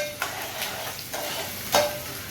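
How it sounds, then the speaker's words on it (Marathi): Onion browning in a pan for an Agri-style curry, with a steady sizzle and three or four scraping stirs of a utensil, close and fairly loud with no talking. "कांदा थोडासा ब्राऊन करायचं आहे त्याच्यानंतर टॅमॅटो टाकूया"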